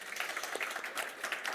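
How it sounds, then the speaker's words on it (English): An audience at a cancer patient conference applauds its panel speakers, a brief, even patter of many hands clapping at moderate distance, fairly faint. "Thank you very much, and applause to our panel speakers."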